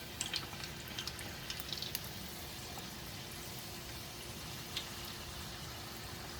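Crab rangoon dropped into 350-degree frying oil, a low steady bubbling sizzle with a few small crackles and pops early on, moderately quiet and continuous throughout.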